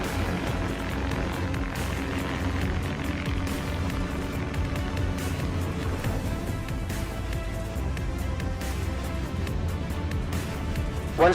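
Prosperity electric air taxi lifting off on a test flight, a steady, loud drone of multiple spinning propellers with a constant whirring hum, sustained throughout.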